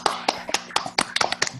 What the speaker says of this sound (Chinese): 先把麦克风打开来帮那个 Justin 鼓掌一下吧